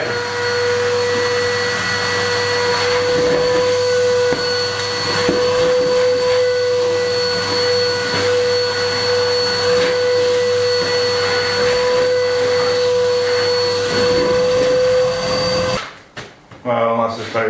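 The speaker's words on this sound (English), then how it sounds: "so we're going to give that a good vacuum." A vacuum cleaner runs loudly and steadily with a constant whine, close by on a filthy floor in a derelict 150-year-old Spanish farmhouse, then cuts out near the end with some clattering.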